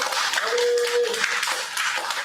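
A church congregation claps during Sunday worship, a dense continuous patter of many hands with a sustained sung or organ tone underneath.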